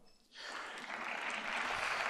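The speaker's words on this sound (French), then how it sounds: "Applaudissements du Parlement européen lorsqu'Emmanuel Macron réaffirme que c'est prévu dans l'accord de coalition" Applause breaks out in the European Parliament chamber after a quiet moment, a broad, sustained wash of many hands clapping that swells and holds steady from a distance.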